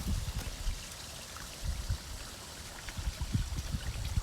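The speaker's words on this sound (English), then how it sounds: "You hear the water rush through." Water rushes and trickles through a hose connected to a campground city water hookup, a low, uneven gurgling flow, fairly faint and continuous with no talking.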